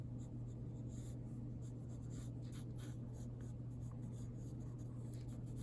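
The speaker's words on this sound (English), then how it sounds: "I'm going to be sketching just half of this onto here" A pencil sketches and traces an image onto paper for a foam relief print, a continuous soft scratching over a steady low room hum, close and fairly quiet with no talk.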